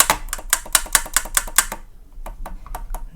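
Side keys on a worn Selmer Mark VI saxophone clack in quick close taps, a dense run of sharp clicks, then a short pause and a few sparser ones.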